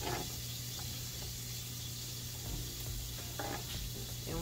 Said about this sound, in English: to saute the onions and mushrooms